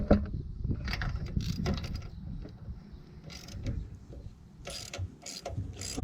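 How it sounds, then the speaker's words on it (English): Spark plug being loosened from a Murray riding lawn mower, with faint, close ratcheting clicks and metallic tool taps in short bursts over a quiet background. "Next, we are going to take out this spark plug."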